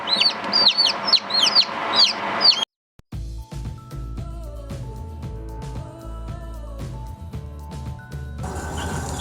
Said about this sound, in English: He's a cool looking little chicken.